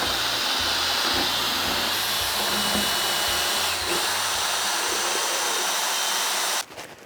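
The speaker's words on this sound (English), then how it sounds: "because the paint mixer is here." Paint mixer spun by a power drill stirring a wheat beer mash for an all-grain Oktoberfest Hefeweizen: a steady, loud, hissing motor whir that runs without a break and cuts off abruptly near the end.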